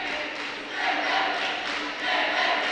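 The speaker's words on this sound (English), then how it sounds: "Quebec crowd gaining behind Rivet here" A Quebec crowd cheers behind a fighter at a national karate tournament, a continuous broad roar of many voices that swells and dips in waves.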